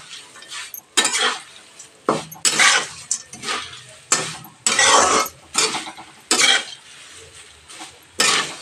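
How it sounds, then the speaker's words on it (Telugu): A ladle stirs poha (atukulu, flattened rice) in a pan, giving repeated scraping, clattering strokes in irregular bursts, close and fairly loud, with no talk. "ఈ గరిటెతో అయితే కలుపుకుంటున్నా."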